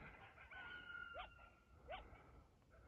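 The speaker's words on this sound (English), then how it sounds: "Almost sounds like a rooster." Two distant crowing calls, each a short rising-then-falling cry about a second apart, heard over steady outdoor background hiss, with a faint steady tone underneath.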